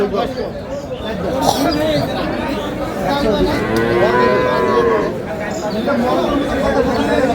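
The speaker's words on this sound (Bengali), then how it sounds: "গাভী আছে আমরা দেখছিলাম এখানে।" Dairy cows and calves low at a livestock market in Dinajpur, several drawn-out moos rising over busy crowd chatter, with people talking nearby.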